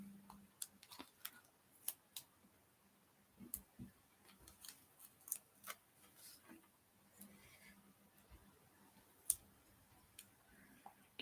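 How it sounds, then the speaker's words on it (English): Scissors snip through craft card for a flower card, a quiet run of sharp irregular clicks and snips close by, with no talking. "this one in half."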